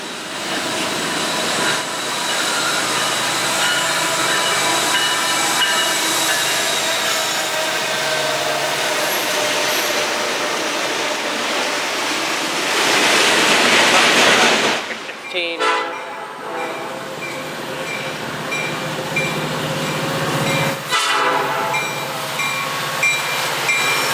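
A train passes close by, sounding its horn in long sustained blasts over a continuous rumble, followed by rhythmic clicking and clattering of railcars rolling past.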